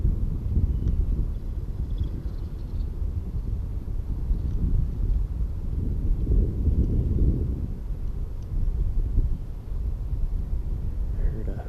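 Stormy wind in a flight game rumbles as a heavy, low, continuous roar and buffeting, loud and close with gusty swells and no clear breaks.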